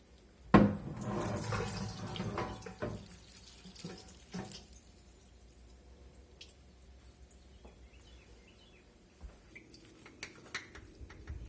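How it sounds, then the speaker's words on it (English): Cooked ground beef and its fat poured into a colander, opening with a sharp clatter and a gush of liquid, then quieter trickling, scraping and light metallic knocks. "We're going to get this over in a colander and get that fat drained."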